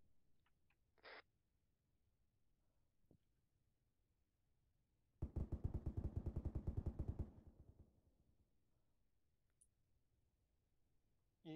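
A loud, rapid burst of machine gun fire in the military shooter ARMA 3 lasts about two seconds mid-clip with a fading echo, surrounded by a few faint isolated shots and clicks and otherwise quiet stretches without speech.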